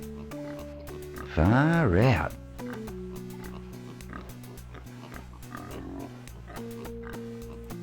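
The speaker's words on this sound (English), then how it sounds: "Ah, the pigs are pigging out." Pigs in a DOS adventure game oink and grunt loudly for a couple of seconds while eating table scraps, a burst of squealing snorts over steady synthesized background music, with a brief spoken remark.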